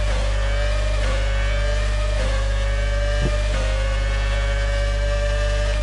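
A Ferrari race car at Spa in a racing video game, its engine holding a steady high tone as it accelerates with no break, alone and close.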